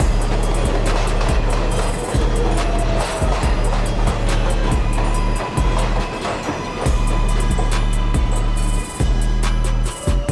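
A Manhattan-bound local 7 train on the New York City subway roars loudly and continuously, with steady low rumble, repeated rhythmic clacks of wheels over rail joints and high metallic screeching throughout.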